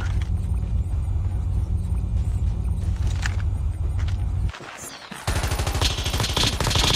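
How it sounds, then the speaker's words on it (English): Gunfire in a competitive shooter video game, a loud continuous rattle of rapid automatic shots that drops out briefly and then resumes as another dense burst, close and dominating. "Okay, I'm hearing more shots over here."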